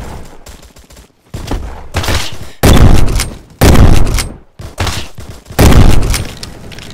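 Automatic gunfire in a shooter video game comes in loud, close bursts of rapid shots, separated by short pauses, with no talk over it.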